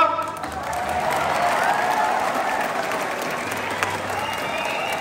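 Sustained applause from a crowd of school staff and students welcoming new class XI students at a school assembly, steady and dense throughout without a break.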